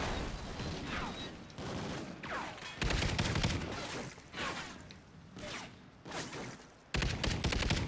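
Enemy gunfire in Call of Duty Ghosts, repeated loud bursts of shots and rattling mechanical clatter arriving in waves close by, with brief gaps between volleys.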